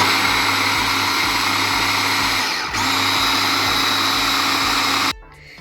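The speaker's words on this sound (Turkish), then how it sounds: "Şimdi mercimeklerimizi iyicene püre gibi oluncaya kadar rondodan geçireceğiz arkadaşlar." A food processor motor whirs loudly and steadily while pureeing cooked lentils, dips briefly once, then cuts off abruptly near the end.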